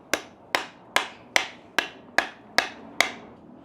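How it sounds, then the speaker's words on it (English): Eight evenly spaced metal hammer strikes drive wheel bearings into a trailer, each sharp clang ringing briefly before the next, close and loud with no talk. "I have to hammer in these wheel bearings in here."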